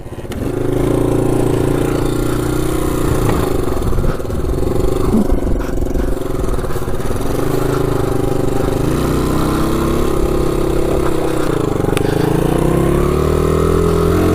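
A barn-find Honda XR100 dirt bike engine runs with the choke on, a steady buzzing single-cylinder idle heard up close, holding roughly level with slight wavering in pitch throughout.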